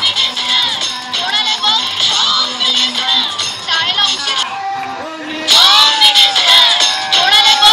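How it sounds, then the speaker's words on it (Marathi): A lively crowd at a village Home Minister game event in Konkan cheers, whoops and shouts excitedly after a paithani sari prize is won. The voices are loud and overlapping, with children shouting among them. "टाळ्या"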